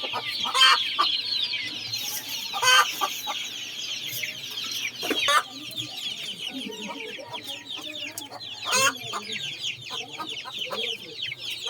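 Young chicks at feeding time, with a dense, continuous chorus of high peeping and clucking close by, punctuated by a few louder calls and faint background speech.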